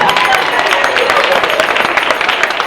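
A studio audience at a holiday home-giveaway show applauds contestant Debbie, a dense, continuous wash of clapping with faint crowd noise.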